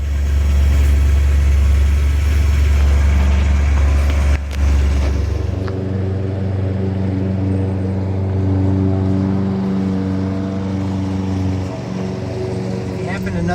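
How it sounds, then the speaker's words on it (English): A 1965 Ford Thunderbird convertible drives with a steady low engine drone, loud and close, shifting in pitch partway through as someone talks over it. "It's because I'm driving this convertible in convertible weather."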